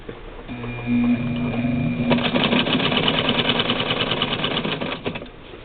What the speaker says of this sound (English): And this machine loves to sew.